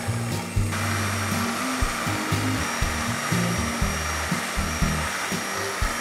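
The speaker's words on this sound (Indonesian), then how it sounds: "si putih telur dan gulanya ini akan kita kocok dengan hand mixer sampai dia mengembang" An electric hand mixer whips egg whites and sugar into meringue at high speed, giving a steady loud whirring drone with rhythmic pulsing and knocks as the beaters move around the bowl.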